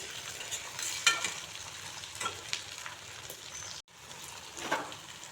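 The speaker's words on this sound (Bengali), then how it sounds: "এখন এতে আমি ছোট একটি টমেটো কুচি দিয়ে দিয়েছি আর একটু সময় টমেটোটাকে কষিয়ে নেব" Chopped tomato fries with browned onions in a pan, a soft steady sizzle with gentle stirring scrapes and a few sharper clicks, fairly quiet and close, with one brief drop-out partway through.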